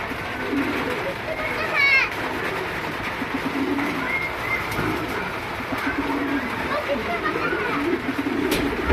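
A pair of beauty pigeons with a parrot-like shape coos in low throaty calls under a man's speech, with other birds faintly in the background.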